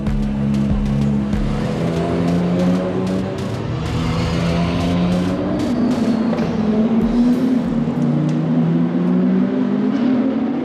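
GT race cars at Paul Ricard (Le Castellet) rolling out for the formation lap, a steady loud engine drone with several overlapping cars whose pitch rises and falls as they pass, continuous throughout.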